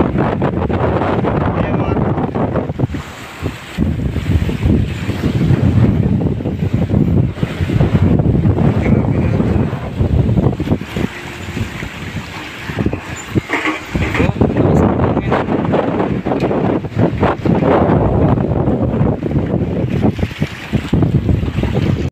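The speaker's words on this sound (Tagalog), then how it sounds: "Kahit malakas ang alon." Strong wind buffets the microphone aboard a small fishing boat on rough sea, with a constant roar of wind and waves washing throughout, and voices talking at times.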